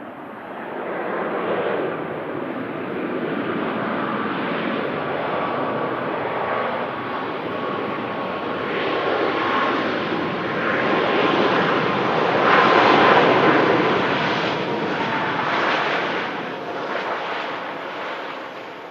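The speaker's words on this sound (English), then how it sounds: "Awesome landing there. Smoothest we've seen all morning." A fixed-wing aircraft lands at Manchester Airport with a broad, sustained jet roar that swells gradually toward a peak and then eases off, loud and continuous with no voices.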